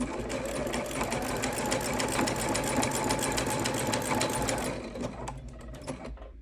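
A sewing machine stitches a coiled rope bowl, its needle running in a fast, steady mechanical chatter for most of the clip before slowing and fading out near the end.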